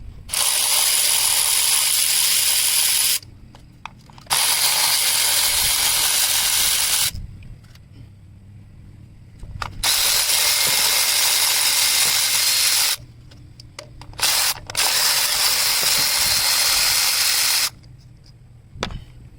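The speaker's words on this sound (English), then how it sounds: "I got my trusty Milwaukee ratchet, 10 millimeter." Milwaukee 10 mm cordless ratchet loosening bolts on a 2015 Chrysler 200 2.4, four loud sustained buzzing runs of a few seconds each with short quiet gaps, close.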